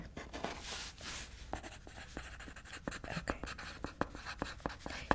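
A pen writes on a client form during an eyebrow consultation in a quiet ASMR setting: close, soft scratching with a steady run of crisp tapping strokes, and a faint hint of whispering underneath.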